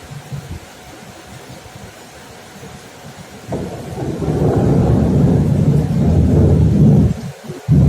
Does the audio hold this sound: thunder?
yes